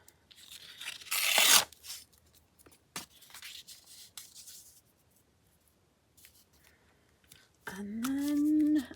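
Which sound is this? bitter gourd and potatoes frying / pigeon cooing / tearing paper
tearing paper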